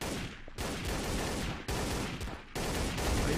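Gunfire from the video game Trouble in Terrorist Town, where an MP5 is in use: dense, continuous bursts of shots broken by a few short pauses, loud and close throughout, with no talking.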